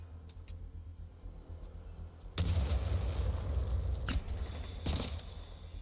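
A grenade blast in Titanfall 2 erupts as a sudden loud, broadband boom that rumbles on for a few seconds, followed by two more sharp bursts near the end over steady game ambience.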